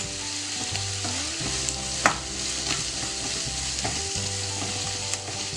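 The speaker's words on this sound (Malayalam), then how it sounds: "ജിഞ്ചർ ഗാർലിക് പേസ്റ്റിൻ്റെ ഒരു റോ സ്മെല്ല് മാറുമ്പോൾ നമുക്ക് 2 മിനിറ്റ് ഒന്ന് വഴറ്റി കൊടുക്കാം" Ginger garlic paste sautéing in a pan for paneer butter masala, a continuous even sizzle with occasional stirring scrapes and a low steady hum beneath, no talking.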